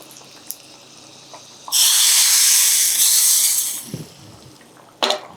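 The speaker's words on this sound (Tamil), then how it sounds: "இப்போ இந்த தாளிப்பை வந்து இதில் சேர்த்துடலாம்" Hot oil tempering with curry leaves is poured into sambar and breaks into a loud, steady sizzle lasting about two seconds before fading, followed later by a brief second burst.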